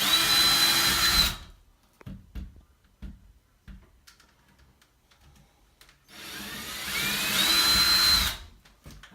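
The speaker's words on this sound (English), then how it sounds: "now we're going to drill the holes" A power drill whines loudly as it bores a hole for a wire closet shelf, stops, then after some quiet knocks and handling, drills a second hole.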